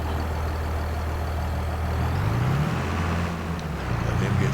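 A tractor or truck in Farming Simulator 22 drives with a loud, steady low engine drone whose pitch rises and shifts partway through, with no talking.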